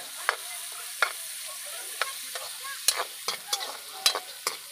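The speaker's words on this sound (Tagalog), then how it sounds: "Haluin hanggang mag-brown." Tomato and ginger frying until brown, with a quiet sizzle and about a dozen crisp, close spoon strokes against the pan at irregular intervals.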